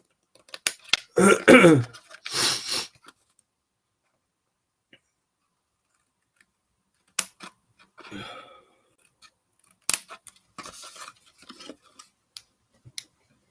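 Scissors cutting card for a scrapbook craft, heard as a few crisp snips and rustles in bursts with long silent gaps, close to the listener.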